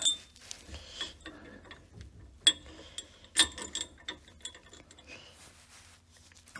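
A ratchet loosely running 13 millimeter nuts onto a steering damper of a Jeep Cherokee HD steering kit, giving short bursts of quick clicking separated by pauses and metallic clinks, close up with no talk.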